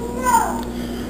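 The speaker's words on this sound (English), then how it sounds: "Sounds like my kids are having fun downstairs." Children's voices chatter and squeal faintly in the background, muffled as if coming from another part of the house, over a low steady hum.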